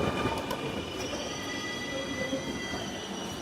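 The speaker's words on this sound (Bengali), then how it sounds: "মেট্রো রেল চলে আসছে" A metro rail train pulls into Mirpur 10 station in Dhaka, its steady rumble layered with high, sustained wheel squeals and rail hum, loud and close throughout without talk.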